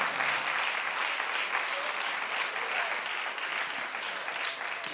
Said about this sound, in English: So now stop clapping for Brad